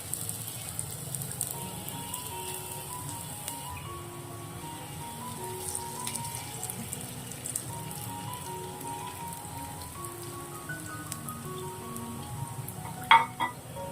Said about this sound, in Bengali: এখন আমি যে দ্বিতীয় ব্যাচের পিঠাগুলো ভেজে নেব সেগুলো দিয়ে নিচ্ছি।